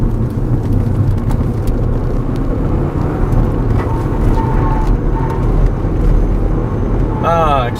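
A first-generation Kia K5 Turbo with tuned suspension takes a corner on a test drive, its engine and road roar steady and loud throughout, with a short whining tone near the end.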